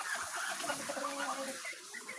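Hen brooding on eggs in a backyard coop, giving soft, steady clucks and murmurs that carry on through the whole stretch with a faint crackly background.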